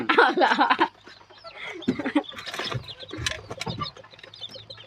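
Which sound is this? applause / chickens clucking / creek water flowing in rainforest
chickens clucking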